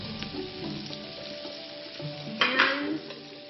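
Garlic sizzles in a pan for an Italian pasta sauce, a soft close frying hiss with small stirring clatters and a brief louder burst near the end.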